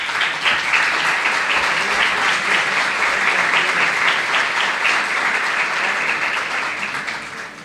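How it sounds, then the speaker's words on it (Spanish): Steady audience applause welcoming a presenter at an education conference, dense and sustained throughout, tapering slightly at the end. "quiero que la recibamos con un aplauso."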